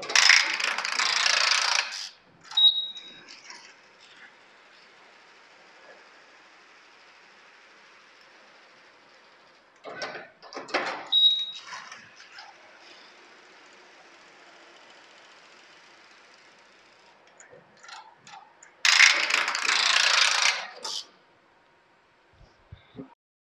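A 3D shoe upper knitting machine starting up after a reset, giving short bursts of mechanical clatter and ratcheting separated by quieter stretches of low whirring, with a few sharp clicks, close by.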